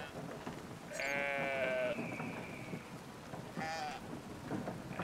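Sheep in the video game Brothers: A Tale of Two Sons give two clear bleats, one long and one shorter, over a steady hiss like rain.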